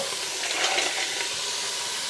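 Mussels and clams hitting hot olive oil in a pan, a dense, even hiss and sizzle that holds steady through the short moment.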